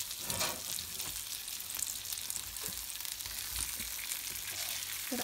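Pieces of ravas fish shallow-fry in a pan Kerala style, giving a steady bright sizzle with occasional crackles and pops, close and continuous throughout.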